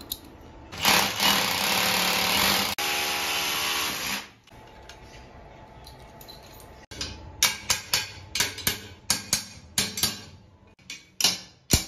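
An electric drill bores 12 mm holes into a tiled bathroom wall for expansion bolts while a vanity cabinet is installed. It gives a loud, steady grinding burst of a few seconds, followed by a quieter stretch and then a series of sharp taps and clicks.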